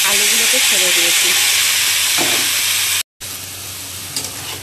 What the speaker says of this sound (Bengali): আমি আলুগুলোকে ছেড়ে দিয়েছি।